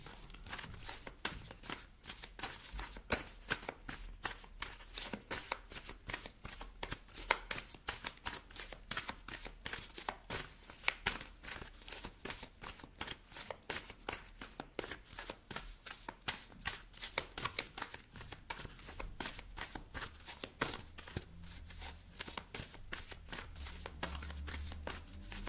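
Oracle cards being shuffled for a tarot reading, a continuous quiet close riffle of rapid papery flicks and slaps lasting the whole stretch.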